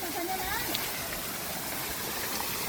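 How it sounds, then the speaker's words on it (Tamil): Water gushes at high pressure from a 1500W BLDC borewell motor pump, drawn from a 1300-foot bore through a 63mm pipe into a garden, a steady, dense rushing roar, with someone speaking over it. "ஒரு 5 அடி தோட்டத்துக்கு தண்ணி போய் நல்லா விழுந்துட்டுருக்கு ஹை ப்ரெஷரில்"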